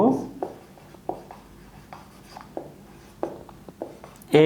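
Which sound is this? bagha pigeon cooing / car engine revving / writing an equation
writing an equation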